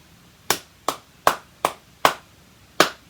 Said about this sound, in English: you're going to clap it while you think the notes in your head.